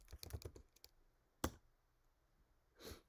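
Someone types a compile command on a computer keyboard, a quick flurry of faint clicks followed by a single sharp key strike and a soft final press, quiet and close with no speech.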